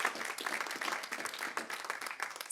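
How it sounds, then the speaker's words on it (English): Audience applause for a presenter at a neuroblastoma support conference, a brief, fairly quiet burst of scattered clapping that rises and falls in uneven waves without voices over it. "So if we could just give a huge round of applause to Pat"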